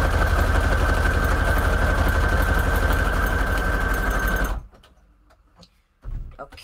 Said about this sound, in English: let's sew that together. And I'm just going to use a zigzag stitch here